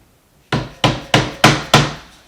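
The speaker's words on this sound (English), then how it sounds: "Take my dead blow hammer, and I'm just going to give it a little tap." Five sharp knocks of a dead blow hammer tapping wood in quick, even succession, close and loud, each dying away fast.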